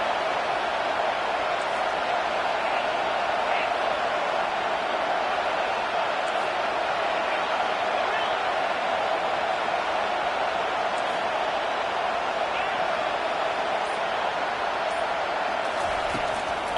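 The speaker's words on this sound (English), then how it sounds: "Listen to this crowd just shaking the girders of this place" Stadium crowd roaring steadily at a football game, a dense, loud, continuous wash of cheering that never lets up, filling the whole space with sustained noise.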